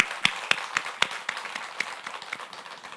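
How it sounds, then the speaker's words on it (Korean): A small group claps in a Catholic lecture after a closing prayer, sharp distinct claps at first settling into softer scattered applause that fades over a few seconds. "주님께 영광의 박수."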